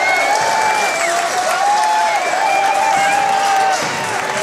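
A crowd cheers at a boys' high school basketball game between Port Allegany and Smethport, a loud, steady roar of voices with whistle-like tones and some claps, filling the whole stretch.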